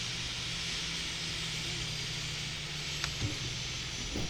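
An aircraft engine in ArmA 3 drones steadily and loudly over a hissy wash, holding an even tone throughout, with a couple of faint knocks near the end.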